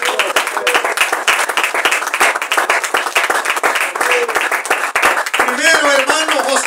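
Church congregation clapping as an offering of praise, dense and continuous hand claps from many people close by, with a voice speaking faintly near the end.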